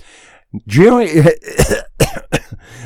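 A person coughs and clears their throat several times in quick, harsh bursts, close to the microphone.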